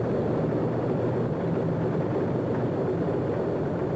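A B-35 model airplane flying, giving a steady, fairly loud engine drone with a broad rushing tone that holds constant throughout without pause.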